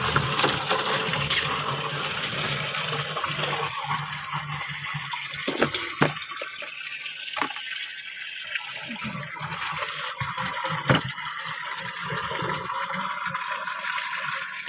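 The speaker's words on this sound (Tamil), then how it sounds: "இந்த குடத்துலலாம் கூட தண்ணி பிடிச்சி வைக்கணும்." Water gushes steadily from a tap into a pot with a broad rushing hiss, punctuated by a few clunks as the container shifts underneath.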